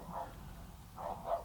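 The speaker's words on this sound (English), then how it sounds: "I apologize for the barking dog" Neighbor's dog next door barks faintly and at a distance, a couple of muffled barks in quick succession with no talking over them.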